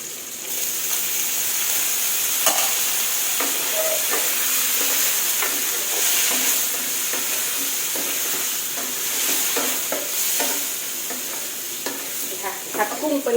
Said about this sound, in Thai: นี่ค่ะพอกุ้งเริ่มสุกค่ะ เราใส่บล็อกกครี่ลงไปเลยค่ะ